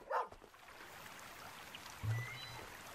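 A dog barks in the video game Superbrothers: Sword and Sworcery EP, giving a short yip near the start and a lower bark about two seconds later over a soft, steady ambient backdrop.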